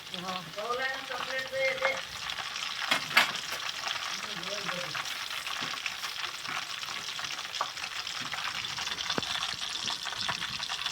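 Raw banana wafers fry in oil over full gas with a constant bubbling sizzle and occasional stirring clatter, and someone talks briefly over it at the start.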